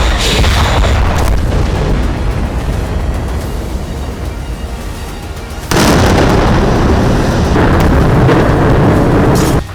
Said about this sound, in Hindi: रह रहकर इन्हीं आर्टिलरी गन्स की मदद से फायर किया जा रहा है गाजा पे।